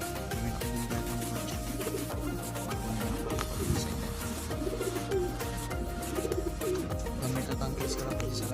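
Pigeons coo in soft, repeated throaty calls close by, half buried under a dense, steady background din.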